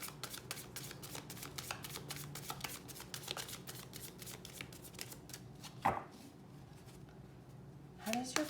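Tarot cards are shuffled by hand in a rapid run of crisp, close riffling flicks, then a pause, a soft card slap and a short final shuffle; a quiet voice speaks in between.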